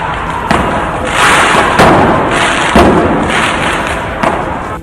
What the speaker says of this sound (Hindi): उन्होंने सड़क पर पटाखे छोड़ दिए।